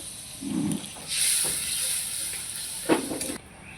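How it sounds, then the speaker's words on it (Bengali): Spice masala with turmeric and chilli powder fries in oil as it is stirred for a jackfruit and paneer biryani, a hissing sizzle that swells midway with a sharp scrape near the end, and no speech. "ভালো করে নাড়াচাড়া করে দেখো মশলাটা ভালো করে কষিয়ে নিয়েছি তেল ছেড়ে দিয়েছে"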